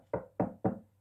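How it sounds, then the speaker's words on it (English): Three sharp knocks on a door fall in a quick, even rhythm, each a distinct thud standing alone against quiet. "He knocked on the door"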